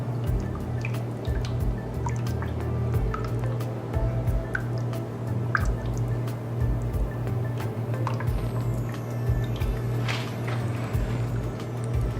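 Vegan bechamel sauce being stirred continuously in a pan, giving a steady wet, squishy scraping with small drips and liquid sounds throughout, close and even, with no speech.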